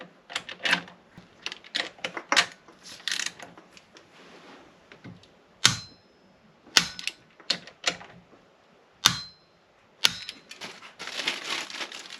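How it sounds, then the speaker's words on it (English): Torque wrench tightening bolts to 18 newton meters during a Yamaha VX110 restoration, with close, loud metallic ratcheting bursts and sharp clicks in irregular groups separated by brief pauses. "These get torqued to 18 Newton meters."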